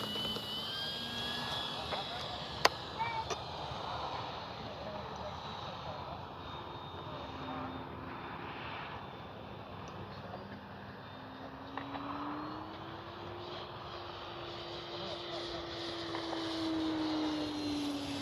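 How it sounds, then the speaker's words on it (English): An RC FlightLine F4U Corsair model plane swinging its big propeller on takeoff, a steady engine drone with a slowly rising whine across the whole stretch, with a brief sharp click early and a voice talking over it. "got that swinging that great big prop. Taking off."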